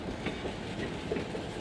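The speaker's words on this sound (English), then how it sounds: "this is the train that everybody's going to be hopping on" A tourist train at Skagway, Alaska, heading up into the mountains, rumbles steadily with a low, continuous rolling of rail cars, fairly distant and even in level, with no voices over it.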